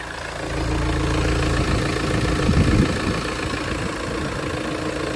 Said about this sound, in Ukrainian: Двигун працює просто чітко, рівномірно, рівненько, не трясе його